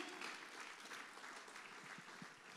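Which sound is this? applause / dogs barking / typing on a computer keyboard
applause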